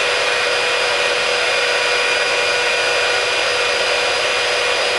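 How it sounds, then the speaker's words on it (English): A heat gun blows hot air continuously up close, a loud, steady roaring whoosh with no breaks, used while working on glitter heat transfer vinyl. "And people wonder why I go through a heat gun every 3 weeks."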